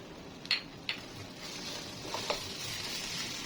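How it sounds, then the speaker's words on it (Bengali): Ginger garlic paste dropped into a hot pan of frying rice: a couple of quick wet splats, then a steady, moderately loud sizzle that swells and holds. "এখন আমি আদা রসুন পেস্টটা দিয়ে দেব।"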